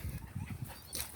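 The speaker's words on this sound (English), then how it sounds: "the dogs are at me" Dogs whimpering and yipping close by, short soft whines and snuffles in quick bursts over a low background.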